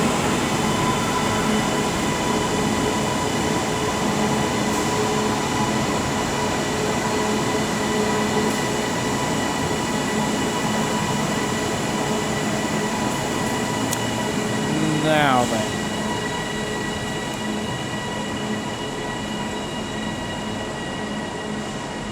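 A train idling at Liverpool Lime Street station on the West Coast Main Line, a steady loud engine and air-conditioning drone with a brief rising squeal partway through and faint station sounds.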